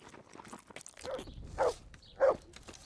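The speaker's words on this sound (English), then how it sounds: "Yes, puppy dog." A dog barks twice within the game Kingdom Come: Deliverance, two short, fairly close barks standing out over faint background game ambience.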